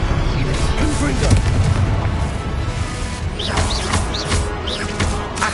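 Confringo fire spell blasts from Hogwarts Legacy roar in as a dense, loud, sustained rumble of booms and crashes, with faint high chirping calls rising over the din near the end.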